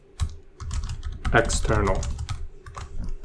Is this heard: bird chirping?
no